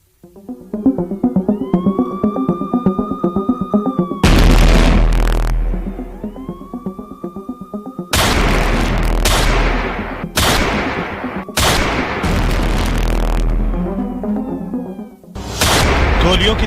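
Loud bursts of rattling gunfire in a Rajasthan capital-city shooting news report alternate with wavering siren-like tones, each burst lasting a second or two, with a voice-like presence in the mix.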